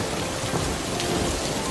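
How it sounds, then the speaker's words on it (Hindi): Heavy rain roars steadily in a thick, unbroken wash, with a low rumble of thunder blended underneath; loud and close. "इस बारिश से तो अब डर लगने लगता है।"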